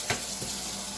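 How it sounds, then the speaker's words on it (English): Water runs from a kitchen tap while ham hocks are rinsed under it, a steady hissing splash with a brief louder gush near the start. "right now I'm going to rinse out my hocks and throw them in there."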